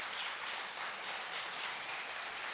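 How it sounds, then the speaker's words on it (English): A steady, faint patter of clapping from an audience applauding a college PR team at an anniversary celebration of clinical legal education, with no voices over it. "I think they do deserve a round of applause as well"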